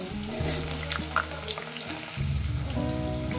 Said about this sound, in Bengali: এবার এটাকে সুন্দর করে আমি আলুটাকে ভেজে নেব।